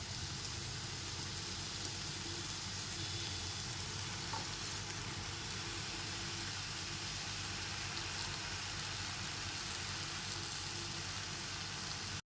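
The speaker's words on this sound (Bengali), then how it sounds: "এরপর এর মধ্যে চিকেনের টুকরোগুলোকে দিয়ে দিচ্ছি" Chicken pieces frying in a cooked-down paste of onion, ginger, garlic and tomato for curry, a steady, even sizzle that holds for the whole stretch, moderately faint, with no talking.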